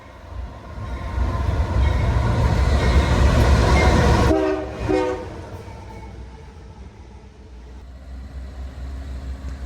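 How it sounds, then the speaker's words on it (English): A damaged locomotive drags aging rail cars slowly through Fullerton station, a loud rumbling roar that fades after a short double horn blast, leaving a lower distant rolling drone. "the crew carefully dragged the damaged locomotive through Fullerton"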